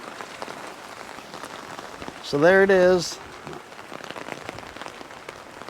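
Steady rain falls on a surface and collects for a spot-free wash water setup, a constant patter running throughout, briefly masked by someone speaking midway.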